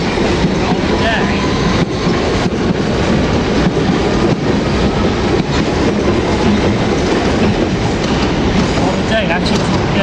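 A Metropolitan Railway train pulls out of Farringdon on the original 1863 underground line, giving a loud, continuous rumble and rolling wheel noise with rhythmic clicks, with voices faintly underneath.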